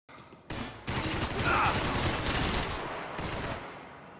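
Sustained automatic gunfire from the video game Max Payne 3, dense rattling bursts at close range that swell and then taper, with a voice faintly mixed in.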